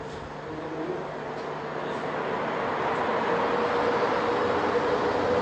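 A train passes at a Łódź rail stop, a steady broad rumble that builds gradually and holds loud to the end, with no talk over it.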